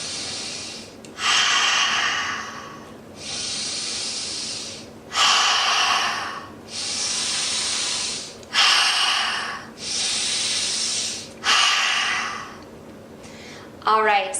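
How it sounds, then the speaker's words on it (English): A yoga student takes forceful cleansing breaths, exhaling hard while pulling the belly in. About six long, loud, hissing breaths come close to the mic in an even rhythm, with short quiet pauses between them. "Exhale, pull your belly in, cleansing breaths 4 times."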